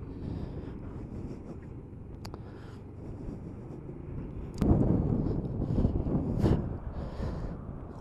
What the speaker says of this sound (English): I don't know if the camera can pick the grass, that's how it's blowing in the wind.